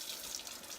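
Hot tap water runs steadily from a kitchen faucet into a big old mixing bowl for deep dish pizza dough, a close, continuous hiss and splash with no talking.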